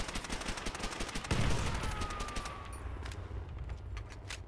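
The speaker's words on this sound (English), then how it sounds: "The MP40 in this game is just fantastic, by the way." An MP40 submachine gun fires in the Call of Duty video game, with rapid, loud automatic bursts of close gunfire that rattle on throughout and swell in a dense volley partway through.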